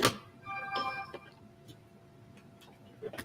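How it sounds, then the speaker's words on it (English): A phone rings somewhere nearby with a short, melodic ringtone burst, fairly quiet, alongside light clicks and faint voices in the room. "hear my phone"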